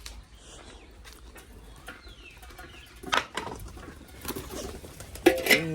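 Pigeons cooing and fluttering in a loft, with soft low calls scattered through the clip and a few sharper, louder bursts of bird noise near the end, no talking.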